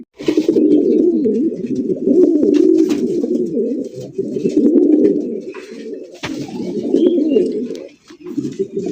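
Pigeons coo steadily in low, throaty, rolling phrases that repeat close by, with faint rustling and clicks in the background.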